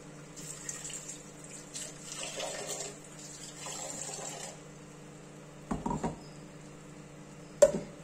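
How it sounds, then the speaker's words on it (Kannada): Tap water runs in a kitchen sink while a mixer grinder jar is rinsed during cooking, in uneven splashing bursts with a sharp clink of the jar near the end. "ಅದೇ ಮಿಕ್ಸಿ ತೊಳೆದು ನೀರು ಹಾಕ್ತೀನಿ."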